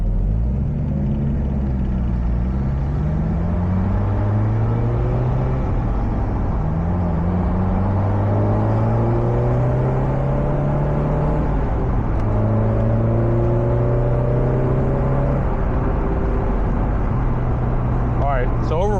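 A Mazda NA Miata engine drones with a steady low rumble, rising and falling as the throttle is pressed and released so the overrun fuel cut engages.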